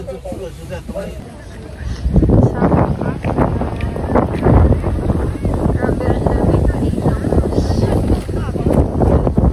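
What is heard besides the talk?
wind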